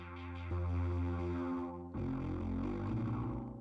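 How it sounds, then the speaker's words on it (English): A Moog-type hardware synth bass with distortion switched on plays sustained, buzzing, harmonically rich notes, loud and alone, with a clear change of note near the middle. "What happens if I turn on distortion?"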